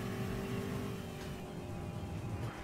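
A 1966 Shelby Cobra 427 in Gran Turismo 6 holds a steady, loud engine drone with a rough, rumbling low end as it accelerates, with no talk over it.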